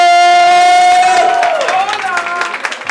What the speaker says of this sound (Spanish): Quiero que le brindemos un fuerte aplauso a la estupendísima Fabiana.